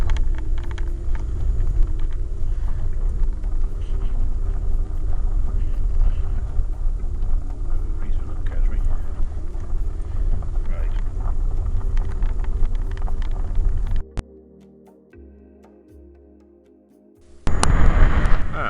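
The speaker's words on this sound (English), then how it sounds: "I hope you can hear over the sound of the wind" Strong wind blows outdoors in the New Forest, buffeting the microphone with a heavy, continuous low rumble. It drops briefly to near calm for a few seconds near the end, then gusts back in.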